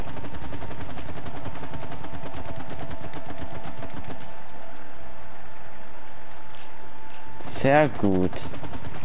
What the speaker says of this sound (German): Ich schieße das andere jetzt ab